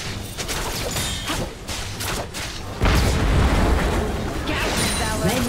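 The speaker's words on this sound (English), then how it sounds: "Red team's inhibitor has been destroyed." Structure destruction in League of Legends, a Red team inhibitor being destroyed amid a top-lane battle: a loud, heavy explosive boom that surges midway, mixed with dense game effects and speech.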